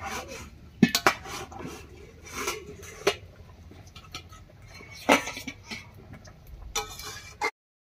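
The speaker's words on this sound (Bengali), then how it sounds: "এবারে ঢাকা খুলে নামিয়ে নিচ্ছি।" A metal lid lifted off a cooking pot and the pot set down off the heat after dried fish has finished cooking, heard as scattered close clinks and knocks of metal, with a louder clatter near the end.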